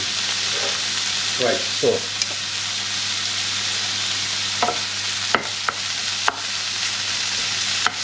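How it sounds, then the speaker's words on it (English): Bacon lardons sizzle steadily in a hot pan without oil, a constant hiss punctuated by a few scraping stirs; a voice speaks briefly at the start. "In goes the bacon lardons. Already starting to sizzle, as you can see."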